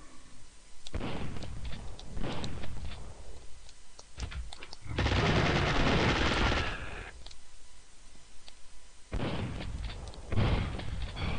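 Enemy gunfire in the Duke Nukem 64 video game, bursts of rapid shots and blasts arriving in clusters separated by brief quieter gaps, fairly close and loud.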